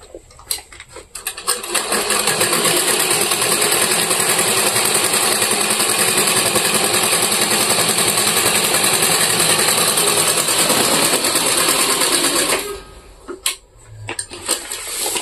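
A sewing machine stitches a strap onto a bag made from a rice sack, a loud continuous mechanical whir running steadily for about ten seconds after a short start, then stopping into scattered handling clicks.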